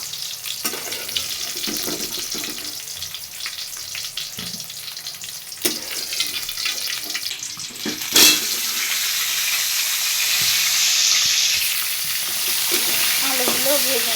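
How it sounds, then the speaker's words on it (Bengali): Pointed gourd pieces frying in oil in a home kitchen, a continuous close sizzle with scattered stirring clinks and crackles, swelling louder toward the end. "ভালো করে পটলগুলো ভাজা হোক।"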